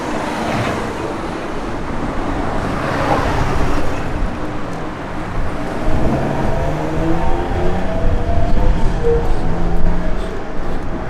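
A 1966 Ford Mustang convertible on BF Goodrich Radial T/A tires pulls away, a steady engine and road rumble that holds loud and close without fading, with no talking.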